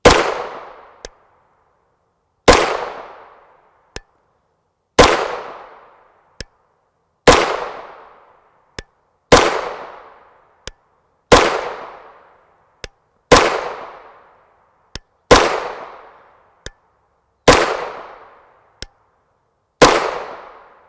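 Nine evenly spaced, loud gunshots from a short-barreled CZ Scorpion Evo 3 S1 firing 9x19mm 100-grain JSP rounds, each sharp crack trailing into a decaying echo, with a faint click between shots.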